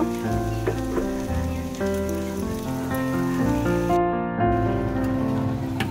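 Chopped onions fry in butter in a pan, giving a steady, close crackling sizzle like light rain that continues throughout without speech.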